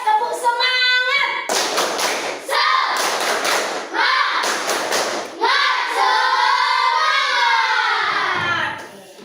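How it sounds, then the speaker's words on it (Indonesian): Schoolchildren in a classroom doing a rhythmic 'tepuk semangat' spirit clap, bursts of patterned claps and thumps interleaved with chanted voices, close and loud, ending in a sung phrase. "Ayo tepuk semangat."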